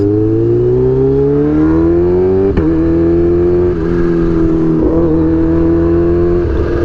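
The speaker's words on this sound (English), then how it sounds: "This bike is just an absolute monster, and I honestly forgot how fast this thing is." A Kawasaki Ninja H2 motorcycle engine accelerates hard through the gears, a loud close whining drone climbing in pitch, dropping briefly at each shift before rising again, with no talking.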